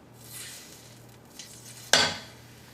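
Halved boiled eggs laid face down one by one into hot oil in a pan over medium flame for a Kerala egg roast, soft sizzling with light clinks and a sharp burst of frying near the end.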